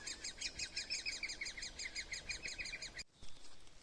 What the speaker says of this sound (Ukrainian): Це зазвичай гніздо дятла. І ну, це їхній звук, їхня малеча